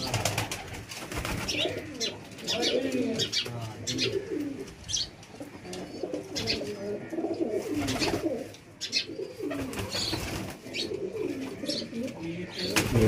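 Low, throaty cooing from a group of newly kept pigeons at a home loft runs on continuously and close, mixed with scattered chirps and flutters, while a voice speaks faintly underneath at times.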